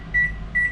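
Two short electronic beeps from a home oven as a cake pan of vanilla chiffon batter goes in, evenly spaced and fairly clear over a low background hum.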